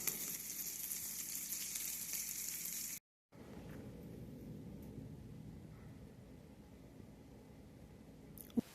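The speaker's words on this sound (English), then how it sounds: "The butter is sizzling." Butter sizzling in a pan in a cabin kitchen, a soft, steady crackling hiss that runs unbroken apart from a brief gap, fairly quiet and with no talking.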